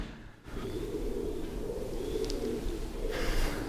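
Pigeons coo from up inside a grain bin in a huge old wooden building, a continuous soft warbling murmur of many birds with a short quiet moment at the very start.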